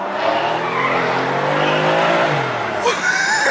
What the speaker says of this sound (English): we are going for a ride in an M4.